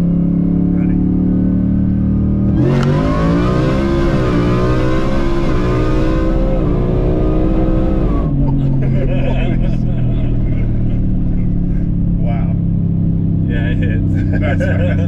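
A supercharged blue Ford F-150 pickup making about 1,100 horsepower accelerates hard, its engine rising loudly in pitch as it pulls, heard from inside the cab with people talking over it.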